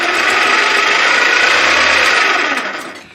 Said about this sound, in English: the whole thing works just by cranking that handle. And you can see the blade, it's really spinning